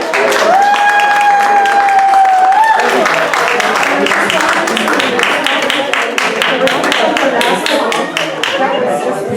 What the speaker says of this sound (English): let's just give them another round of applause